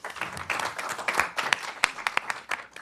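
Audience applause at an academic talk on global development and crisis, a steady wash of many hands clapping for nearly three seconds with a few sharper individual claps standing out toward the end.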